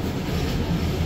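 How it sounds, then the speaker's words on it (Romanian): Steady rumble and rolling noise from inside a regional passenger train in Romania, continuous and fairly loud with no talk. "Miha, îți place cu trenul în România?"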